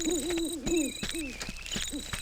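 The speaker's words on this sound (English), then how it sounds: "Nice touch that we hear owls out here instead of all those obnoxious birds" Owls hoot repeatedly at night in the Ultima IX: Ascension game world, a series of wavering, tremulous calls overlapping one another against steady ambient background tones, with no talk.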